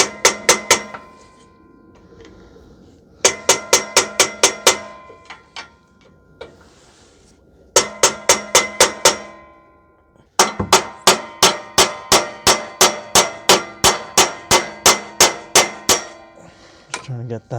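Hammer striking a chisel on the exhaust to free a bank 1 catalytic converter from a 2015 Toyota Sienna 3.5 V6, bursts of rapid sharp metallic clanks separated by short pauses, close and loud.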